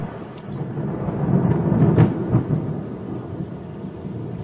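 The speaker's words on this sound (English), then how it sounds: "the rains fall in an almost continuous deluge" Low rumble of thunder rolling through a steady wash of heavy rain, swelling midway and then easing back.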